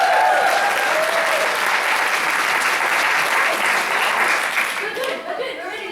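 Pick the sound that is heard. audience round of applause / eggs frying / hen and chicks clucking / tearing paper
audience round of applause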